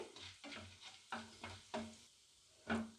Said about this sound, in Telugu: ఇందులో మనం ధనియాలు వేసుకుందాం ధనియాలు కూడా వేసుకొని దోరలుగా ఫ్రై చేసుకోవాలి